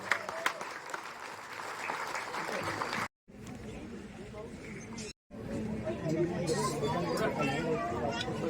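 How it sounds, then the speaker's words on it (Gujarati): Applause at a special screening of the Gujarati film 'Kamthan' in Bhuj greets an assistant director, moderate clapping mixed with audience chatter and murmur, broken by two brief silent gaps, then continuing under a busy room. "માનસી માટે પણ એકવાર જોરદાર તાળીઓ."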